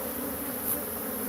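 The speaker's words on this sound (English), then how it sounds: "There's a lot of bees in there." Dense, steady buzzing of many bees nesting underground inside a corrugated structure, a loud continuous drone heard close up with no talk.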